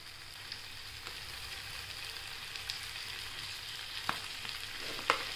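Sabudana khichdi with peanut powder being stirred in a hot pan: a continuous gentle fry with light spoon scrapes and a few sharper clicks, close and steady with no voices.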